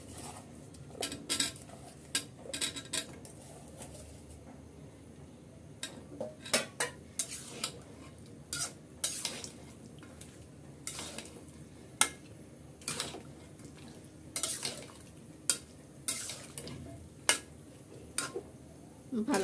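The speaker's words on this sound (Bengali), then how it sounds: "ভালো করে একটু কষিয়ে নিচ্ছি।" Chunks of bottle gourd being stir-fried in a pot for a meat and lentil dish, heard as repeated metal spoon scrapes and clinks against the pot in an irregular rhythm over a faint sizzle.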